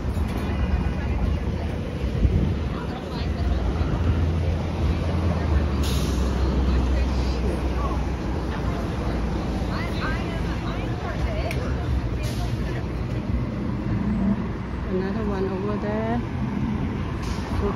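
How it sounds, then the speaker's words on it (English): Trucks pass on a busy street beside Waikiki Beach, a low rumbling roar with a hiss like an air brake, heard through gusty wind buffeting the microphone. "Trucks."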